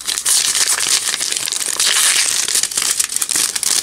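A paper envelope holding Kinki Takarakuji lottery tickets is torn open and handled up close, giving a continuous burst of crisp crinkling and rustling paper with no voices.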